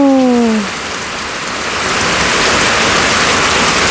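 Heavy rain pouring down in the morning, a dense, steady hiss that fills the scene from start to finish, with a brief tonal sound fading out at the very beginning.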